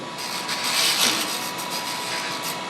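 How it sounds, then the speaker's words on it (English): A straight skew chisel takes a peeling cut on wood spinning on a lathe, giving a steady close hiss and scrape with a brief louder swell near the one-second mark. "this is a peeling cut is probably the best way to cut wood down"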